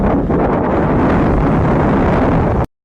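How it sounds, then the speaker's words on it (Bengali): Strong wind from Cyclone Remal in North 24 Parganas buffets the microphone in a loud, continuous roar with gusty surges, then cuts off abruptly near the end. "দেখো কি জোরে হাওয়া হচ্ছে।"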